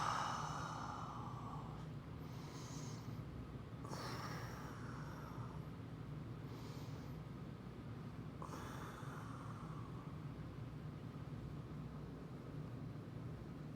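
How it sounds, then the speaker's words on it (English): Slow, deep breaths during an upper-body stretch, with several long airy exhales and inhales rising and fading over a quiet low background hum, faint and unhurried. "so I'm just going to breathe through it"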